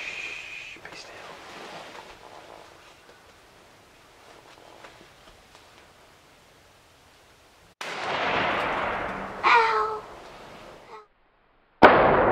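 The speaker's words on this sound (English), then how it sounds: "I shot a buck" A single loud rifle shot fired at a buck while deer hunting, a sharp burst near the end of a quiet stretch with whispered talk and rustling before it.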